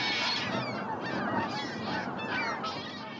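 A dense flock of geese honks continuously, many overlapping calls at once, loud and close, with no talking.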